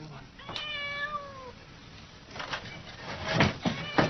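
A cat shut in a puzzle box meows once in a clear rising-falling call, followed by shuffling and clattering movement noises, heard close over a faint hiss.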